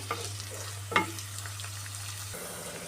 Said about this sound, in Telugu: ఎర్రగడ్డలు వేసుకున్నాము ఫ్రై చేసుకున్నామండి ఒక రెండు మూడు నిమిషాలు బాగా మగ్గనిద్దాము